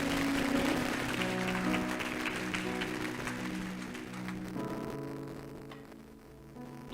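A church congregation applauds the Lord during a service, clapping steadily at moderate volume. Sustained keyboard chords play underneath, and the clapping thins out toward the end.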